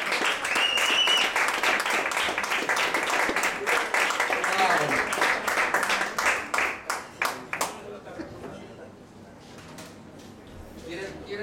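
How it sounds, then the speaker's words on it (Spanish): Audience applauds at a live quintet concert, a dense, loud burst of clapping that thins into scattered individual claps and fades toward the end. "Un aplauso otra vez para..."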